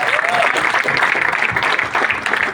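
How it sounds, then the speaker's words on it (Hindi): Steady, loud applause fills a hall as the audience at a music launch event claps for a guest, with faint voices mixed underneath. "ज़ोरदार तालियां इन सबके लिए"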